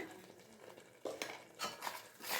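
A spoon stirs turmeric powder into mango chitranna masala in a pan, making faint, soft scraping and light metallic clinks that grow slightly louder toward the end, with no talking.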